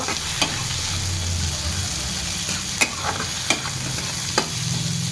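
Potatoes fry in spice paste for a light hilsa curry with potato and eggplant, a strong steady sizzle under repeated scrapes and knocks of a spoon against the pan as they are stirred.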